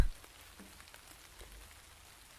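Steady, faint rain falling and pattering on surfaces, a soft continuous hiss after a brief thump at the start, with no voices.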